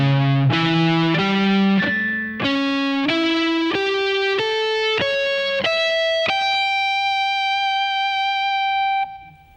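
Distorted electric guitar picks a melodic arpeggio shape, about a dozen notes climbing steadily upward before the top note rings out and sustains, loud and close with no talking.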